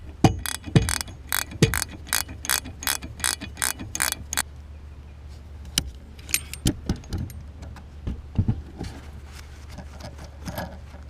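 Ratcheting on the shock absorber locking nut of a 2003 Mercedes CLK 500, a steady run of rapid metallic clicks followed by looser, irregular clinks and taps of tools, close up with no speech.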